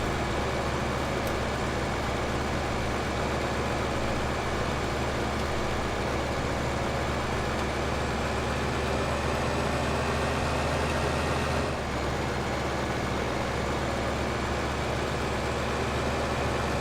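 A tractor engine drones steadily while driving in Farming Simulator 2015, a constant, dense mechanical hum that stays unchanged throughout.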